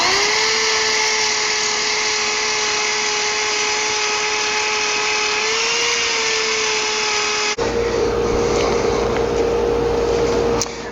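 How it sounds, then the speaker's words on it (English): Electric disc sander running steadily on cypress wood for a storage box, a loud constant motor whine that shifts into a rougher, noisier grinding hum as the wood meets the disc. "Now then I'll finish it up with the disc sander."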